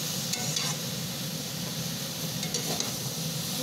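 Vegetables and spices sauté in a pan with a dense, continuous sizzle, close and even throughout, with faint stirring scrapes underneath.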